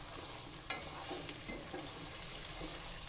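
Boiled paya trotters tumbling into a pan of frying onions on a slow flame, giving a steady soft sizzle with a sharp clatter at the start and a few light stirring knocks after it.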